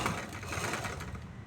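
A sewing machine stitches a chudithar neck and collar fabric together, running in a steady, even mechanical rattle throughout at moderate level, with no talking.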